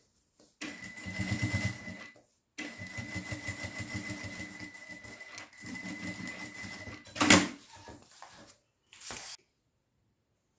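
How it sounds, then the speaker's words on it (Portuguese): A sewing machine topstitches the edge of a synthetic leather pouch in three close, steady runs of rapid mechanical stitching, each stopping abruptly. A louder clunk follows, then a short final burst, with no talking. "Vira o forro lá para trás e faz uma costurinha de pesponta aqui."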